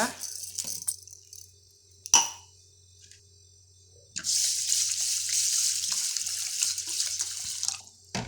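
Water is poured over pearl millet in a bowl to soak it. A few clinks come first, then a steady, close splashing pour lasts several seconds before stopping.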